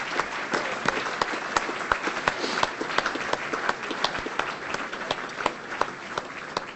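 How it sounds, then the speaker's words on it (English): Applause from an audience at a football club awards night. Many people clap, and individual claps stand out as sharp, regular beats over the general roar, loud and steady for several seconds. "I'd like everyone just to give her a round of applause for Jodie to do that."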